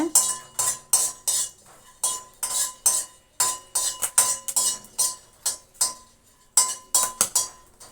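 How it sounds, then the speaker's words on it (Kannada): Peanuts dry-roasting in a pan on low heat, stirred with a metal spatula that makes rapid, rhythmic scraping clinks, close and fairly loud. "ನೋಡಿ ಸಿಡಿತಾ ಇದೆ"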